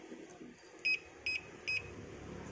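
An alarm padlock beeps when turned over: three short, clear electronic beeps evenly spaced about half a second apart, fairly close and alone against a quiet room.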